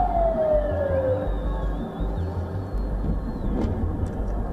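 A siren tone slides downward and fades while another faint wail drifts higher up, over a loud rumbling city or traffic background.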